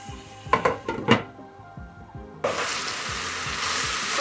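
Minced chicken stuffing for jalapenos cooks in a pan, opening with a few clinks of utensil on pan, then a steady loud broadband sizzle of frying fills the second half with no talking.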